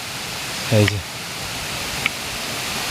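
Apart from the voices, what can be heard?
waterfall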